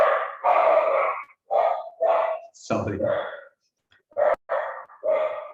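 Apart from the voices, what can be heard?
adopted dog barking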